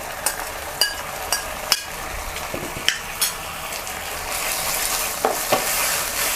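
Chicken breast and basil leaves stir-fried in a pan give a steady sizzle, cut through by sharp, repeated scrapes and clinks of a spatula against the metal, with no talking.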